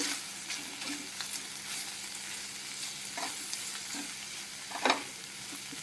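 Broad bean pieces fry in a pan while being stirred, giving a soft continuous sizzle broken by occasional scraping strokes of the spoon, fairly quiet and close with no talking.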